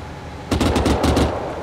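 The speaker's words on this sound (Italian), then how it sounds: "Là, là il mio cannone che spara." Rapid bursts of cannon fire in the video game Antistasi, a quick series of repeated booming shots at moderate distance lasting about a second.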